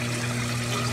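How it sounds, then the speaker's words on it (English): A protein skimmer in a saltwater aquarium churns water into bubbles, a steady close hiss of fizzing water over a constant low pump hum, with no talking. "Protein skimmer sucks the water up, churns it into all those bubbles right there."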